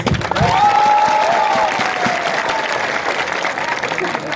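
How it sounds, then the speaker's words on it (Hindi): A crowd at a mass political gathering in Raima Valley claps for Burui Bottle, steady dense applause over the whole stretch, with a tonal voice or feedback line drifting through early on. "तो सब बुरुई बोतल के लिए एक ताली मारो तो प्लीज"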